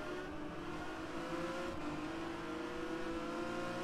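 Renault Mégane race car in a racing video game on Slovakiaring, a steady engine drone with a brief dip as it brakes, faint and continuous with no talk.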